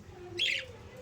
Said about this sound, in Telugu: ఇవి మా పక్షులండి. 4 ఇయర్స్ నుంచి ప్రేమతో పెంచుకుంటున్న పక్షులు.